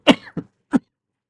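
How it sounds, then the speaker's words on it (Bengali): Three short, close coughs during a medical talk on cancer risk, one longer hacking cough followed by two brief ones, with no speech around them. "বা মাঝখানে একটু কাশি না এলে"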